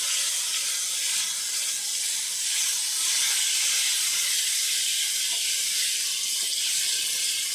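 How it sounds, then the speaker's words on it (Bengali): Water poured into hot roasted semolina for upma and stirred in makes a loud, continuous steamy hiss that holds steady from start to finish. "এবার জল দিয়ে দেবো, হালকা জল দিয়ে এরকম করে মিশিয়ে নেবো।"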